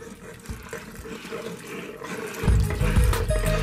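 Liquid pours into an electric pressure cooker during brisket cooking, a soft watery trickle that swells into a heavier, louder gushing splash partway through.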